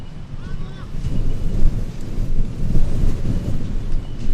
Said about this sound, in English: It is very windy Wellington here.